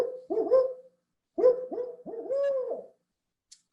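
A barred owl hoots in a series of close, clear rising and falling calls, a short phrase followed by a longer one, with no other sound around them.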